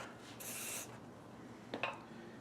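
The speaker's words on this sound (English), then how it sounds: "I'll spray this one" A short hiss of glue accelerator sprayed onto a woodworking joint, faint and close, followed by a few light scraping and handling clicks.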